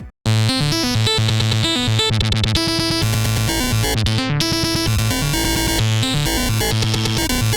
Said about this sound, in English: I personally like to add some glitchy stuff